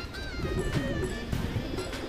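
Madrasi pigeons coo softly in a loft, a few low murmuring calls under steady background noise.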